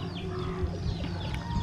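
Chicks cluck and peep softly at the far end of a garden in Mindoro, with short, faint chirps over outdoor background noise and no talking.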